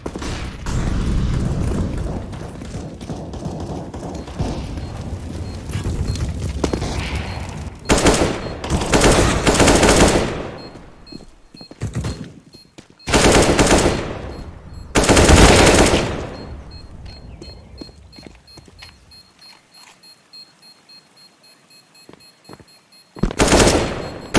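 Counter-Strike: Global Offensive match audio with sustained automatic gunfire bursts and booming explosions, loud and dense, broken by short gaps and a quieter stretch near the end before a final burst.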